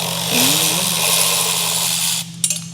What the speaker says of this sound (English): using this Milwaukee breaks it loose